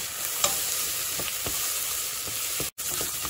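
Close sizzling in a pan as a spoon stirs green chilies into the base of a Persian lentil stew, with faint scraping strokes over a steady frying hiss.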